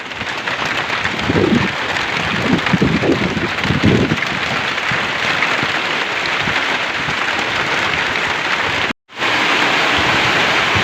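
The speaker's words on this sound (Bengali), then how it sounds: "দেখেন বৃষ্টি বাতাস একসাথে আসছে।" Heavy rain and wind storm sweeping over a turkey and chicken farm, a dense, steady roar of downpour and gusts that fills the whole stretch loudly, with a brief dropout near the end and no voices.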